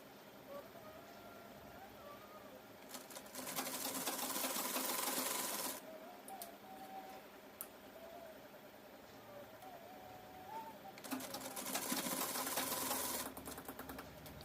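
A sewing machine stitching a folded five-inch hem along the bottom of a women's trouser pant, two loud steady runs of rapid mechanical whirring separated by a quiet pause with faint handling.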